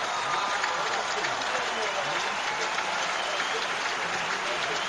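A crowd at the 2005 Australian Open semifinal between Safin and Federer breaks into sustained, dense applause after a break of serve, steady and fairly loud throughout.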